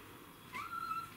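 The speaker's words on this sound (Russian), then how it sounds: "Пришел наш кот черный Сёма проверить, чем же мы тут занимаемся." A black cat gives a single short, rising meow indoors. The call is faint and quiet, with no talking around it.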